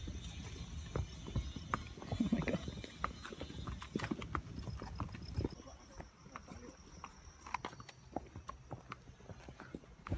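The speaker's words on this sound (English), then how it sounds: "I'm on the horse." A horse's hooves clip-clop in a steady, fairly quiet rhythm as it is ridden along, with people talking faintly in the background.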